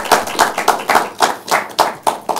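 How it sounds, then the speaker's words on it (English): Loud, close clapping with about ten distinct rhythmic claps, nearly in unison, from the audience at a university law quiz competition. "A round of applause for him."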